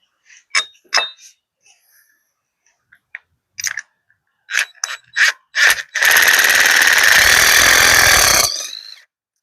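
A power drill drives a post anchor into the ground for a patio shade structure; a few scattered clicks and knocks come first, then a loud continuous grinding whir lasts about two and a half seconds before stopping.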